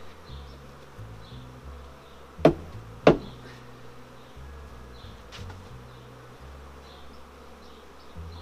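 Honeybees buzz around a beehive in a steady low drone, interrupted by two sharp knocks near the middle.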